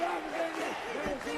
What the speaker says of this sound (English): the crowd beginning to chant for Kazuo Misaki